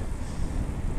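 Wind buffets the microphone on a windy Sunday morning mountain bike training ride on trails, a continuous loud rumbling roar with no talk.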